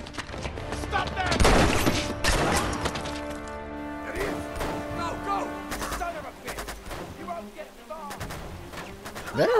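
Gunfire in the video game Uncharted 2: a busy barrage of shots and crashing impacts, loudest early on, with voices and game sounds mixed in.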